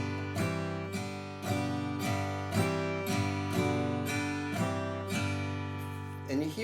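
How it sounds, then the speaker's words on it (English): An acoustic guitar is strummed slowly up and down on the chords of a song, with evenly spaced, ringing strokes heard close and alone. "And you go back and forth between that on an up and down strum."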